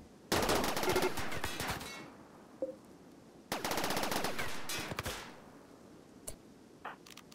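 Gunfire in Rimworld, two long rapid bursts of sharp cracking shots, each about a second and a half, followed by a few isolated single shots, fairly faint with no talk.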